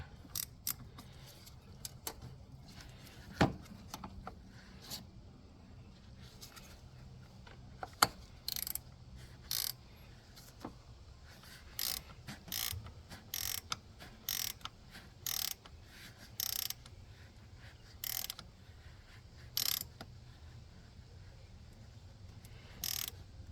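A 10mm ratchet wrench snugs down the battery terminal on a Toyota 4Runner, producing short, quiet bursts of clicking spaced a few seconds apart over a faint background.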